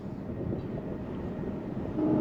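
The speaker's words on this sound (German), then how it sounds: "Zug von rechts, Zug von links" Steady low rumble of a train rolling past at moderate distance near a lifting bridge, heard from a boat, continuous throughout and swelling slightly louder toward the end.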